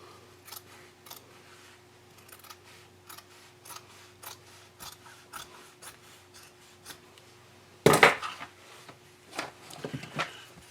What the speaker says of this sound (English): I'm going to take each one of these legs and I'm going to cut right along this seam right here